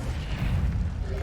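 Incendio fire spell cast in the video game Hogwarts Legacy, a dense low rumbling whoosh of flame that holds steady through a short burst with no voice over it.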